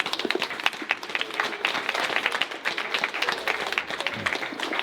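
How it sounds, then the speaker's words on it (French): A crowd at a Nous voulons des Coquelicots gathering in Saint-Brieuc applauds Fabrice Nicolino, steady dense clapping throughout, fairly close and loud, with a few scattered voices. "vous pouvez l'applaudir."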